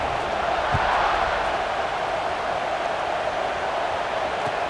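Stadium crowd in the College Football 26 video game keeps up a steady, loud, wash-like roar that stays even throughout, with no distinct voices standing out.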